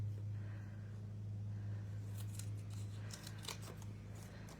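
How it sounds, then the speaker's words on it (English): Scissors snip through low profile pop dots in a craft setting, a few quiet crisp cuts over a steady low background hum. "So I took my low profile pop dots, and actually I'm going to cut them"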